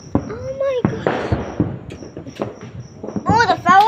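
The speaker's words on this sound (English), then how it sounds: "Oh, the fireworks are getting bigger." Fireworks bursting at a New Year's Eve celebration, heard as a few sharp distant pops and crackles among excited children's voices and shrieks, with people talking and exclaiming throughout.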